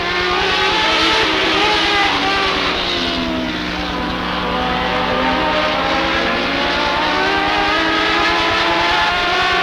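A seven-car field of race cars at Rockford Speedway roars loudly at the green flag, the engines blending into a dense, sustained howl that swells and shifts pitch as the cars accelerate away, with no talking.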